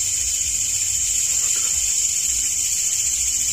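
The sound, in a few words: crickets chirping, getting louder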